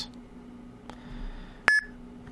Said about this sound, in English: And you'll hear a little beep sound.